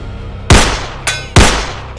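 Two sharp, loud rifle gunshots less than a second apart, each with a short ringing tail, with a fainter crack between them.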